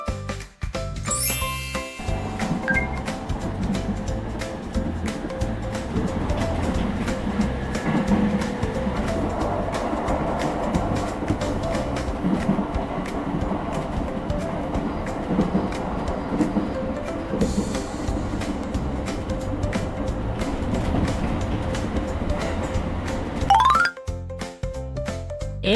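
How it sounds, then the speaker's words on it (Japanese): An Odakyu 70000 series train passes a level crossing, its loud rumbling roar and rhythmic wheel clatter lasting about twenty seconds as crossing bells ding, then fade away. "小田急7万系電車。"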